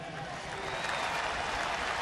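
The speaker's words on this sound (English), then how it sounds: "let's give him a round of applause for that" Crowd applause at a St. Louis ballpark for Willie McGee of the 1982 team, a steady distant wash of clapping and crowd noise, fairly faint and even throughout.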